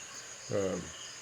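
A single short, buzzy katydid chirp sounds close by against a steady high insect drone, with no other sounds.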